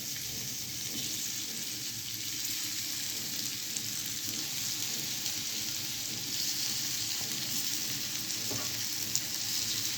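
Paneer pieces frying in a thin layer of oil in a pan, a steady close sizzle with faint clinks, no talking.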